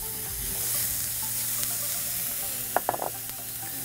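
Chopped onion and other vegetables sizzle steadily in an oiled pan, a constant close frying hiss with a few sharp clinks of a utensil near the end.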